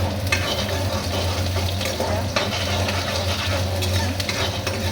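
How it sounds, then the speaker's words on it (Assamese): Onions fry in hot oil for a dal tempering, giving a steady sizzle with stirring scrapes and occasional clinks of a utensil against the pot throughout. "পিঁয়াজখিনি অকণমান ভাজি লৈ"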